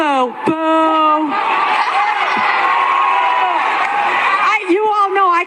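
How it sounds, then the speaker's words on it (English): A crowd at a Bernie Sanders campaign rally, where a congresswoman spoke, lets out a long sustained boo that swells, holds for several seconds and fades as someone speaks over it. "No, we're going to boo."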